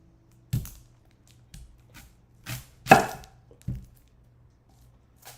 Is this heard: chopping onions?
yes